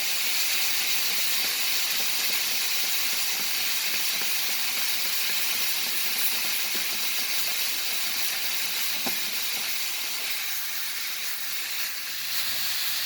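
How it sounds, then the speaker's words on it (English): Red wine vinegar cooks off in a hot pan of onions during deglazing, giving a loud, close, unbroken steamy hiss that holds steady for over ten seconds with no voices. "Get the red wine vinegar. We're going to let that go on just for a minute."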